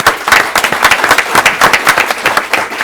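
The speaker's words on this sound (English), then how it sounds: "Big round of applause," Close, crisp hand claps from a modest group fill a city council meeting in Brawley. The applause runs as a lively, uneven patter for a few seconds.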